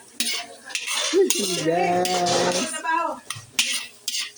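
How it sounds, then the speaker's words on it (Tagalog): A utensil scrapes and clanks against a pan while ingredients for pansit are sautéed and stirred, in short irregular bursts; a voice briefly speaks in between. "sinasangkotsa na po natin ang ating sahog sa ating yummy pansit ngayong umaga"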